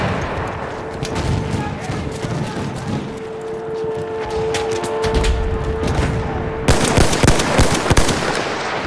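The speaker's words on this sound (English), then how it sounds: "Enemy machine gun under there." Rapid machine-gun bursts from an enemy emplacement in the Battlefield 1 Amiens map, a steady rattling stream of shots with a sustained tone underneath, then a louder, denser stretch of fire near the end, with voices talking over it.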